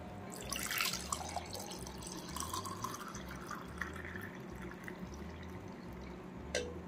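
Sukku dry ginger coffee is poured back and forth between vessels, giving a faint, continuous trickle and splash of liquid with a low background hum and no voices.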